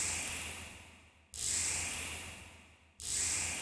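A zip tie recorded on a phone with a reverb effect added, heard as a breathy, hissing zip that swells and then fades, repeating three times with abrupt starts, loud and alone.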